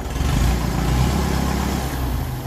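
A 1954 Ferguson 20 TEF diesel tractor engine runs steadily close by, a loud continuous low throbbing chug with no talk.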